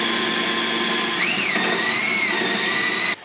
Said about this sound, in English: I want to get that hole drilled first because that is much thicker aluminum.